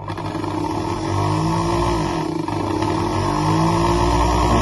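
A Toyota Corolla Altis with an idle stuck around 2000 RPM is revved hard. The engine holds a loud, close drone whose rising, wavering pitch climbs and stays high throughout, with a faint mechanical clatter underneath.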